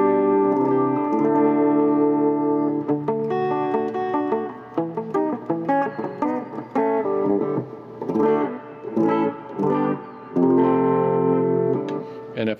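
An electric guitar plays through a Belton BTDR-1H-L reverb module set to maximum, fitted in a VHT Special 6 Ultra amp. Chords and notes ring with a thick, lingering wash for about thirteen seconds, loud and close, with no voices.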